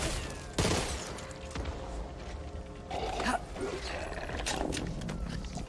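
SMG gunfire in Back 4 Blood, rapid bursts of automatic shots with a few sharper cracks over a busy, noisy game mix, moderately loud with faint voices.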